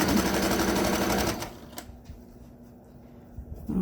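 Sewing machine stitching a fabric surgical skull cap, a fast rattling hum for about a second and a half, then stopping, followed by quiet handling clicks and a brief restart at the end.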